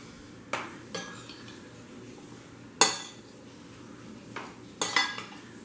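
Vegan three-bean chili being scooped from a pot: a handful of sharp metallic clinks and scrapes of a utensil against the pot, spaced irregularly over a quiet background, with no voices.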